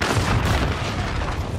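A rocket explosion in an online shooter game, a heavy booming blast with a rumbling roar that fills the short moment.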